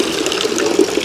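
Cold water from the Fraternity public drinking fountain on a street in Timișoara runs steadily into a water bottle, a close, continuous gushing fill.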